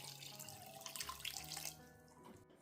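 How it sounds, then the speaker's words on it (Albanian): Water pours from a tap into a pot of sugar, about a litre for baklava syrup, a bright, steady splashing stream that stops abruptly near the end. "Në 1 kilogram sheqer do të shtojmë 1 litër me ujë."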